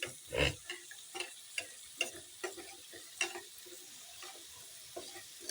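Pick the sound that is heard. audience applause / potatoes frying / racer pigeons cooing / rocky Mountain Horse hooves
potatoes frying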